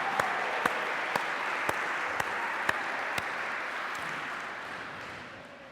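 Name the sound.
congregation applauding in church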